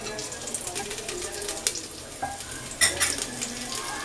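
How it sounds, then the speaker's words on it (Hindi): Whole spices (black cardamom seeds, cloves and green chili) fry in a pan for jeera rice, giving a steady close sizzle with a few clinks and scrapes of stirring. "और हम इसे भून लेंगे फिर इसमें डालेंगे हम जीरा"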